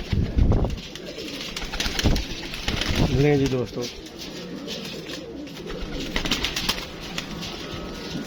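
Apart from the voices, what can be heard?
pigeons cooing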